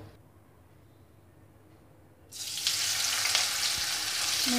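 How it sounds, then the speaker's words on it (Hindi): Paneer fries in hot mustard oil in a kadhai, a steady loud sizzle that starts abruptly after a quiet moment and holds at a constant hiss. "मैंने तेल पे पनीर डाला हुआ है, पनीर को गोल्डन ब्राउन होने तक फ्राई करना है"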